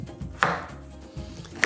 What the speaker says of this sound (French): on va couper les courgettes en petits dés réguliers